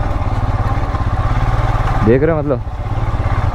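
A motorcycle engine runs steadily with a low, even thrum while being ridden, and a voice speaks briefly over it partway through.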